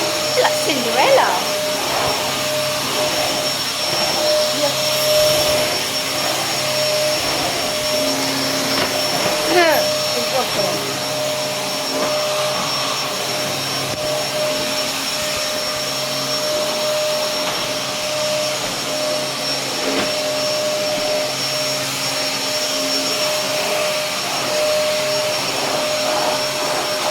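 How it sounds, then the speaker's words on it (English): Steady, loud drone of a vacuum cleaner hoovering a room, a continuous whine with broadband roar and occasional knocks and shifts as it is pushed around, with faint talk underneath at times. "hoovering up"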